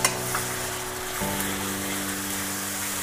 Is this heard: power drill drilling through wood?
no